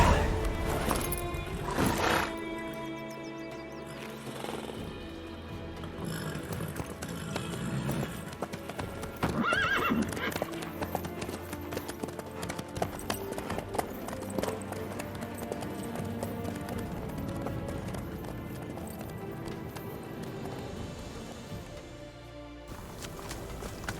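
A horse in The Witcher 3 gallops with steady clip-clopping hooves and lets out a whinny early on, set against a continuous game soundtrack, with no talking.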